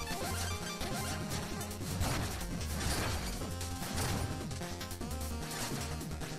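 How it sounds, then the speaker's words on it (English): Bombs blasting dirt blocks in the Shovel Knight game play as a steady run of loud crashing, smashing hits, layered over busy chiptune game music throughout. "destroy the dirt blocks to go down to the next screen"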